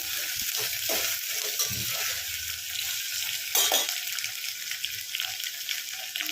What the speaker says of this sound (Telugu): వీటిని అయితే మూత పెట్టకుండా ఒక 2 నిమిషాలు ఫ్రై చేయండి.